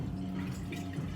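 Water poured into a hookah base, or vase, in a steady close trickle with dripping and filling sounds, no talking.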